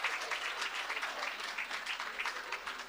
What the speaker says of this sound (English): Can you give her a round of applause when you sit down?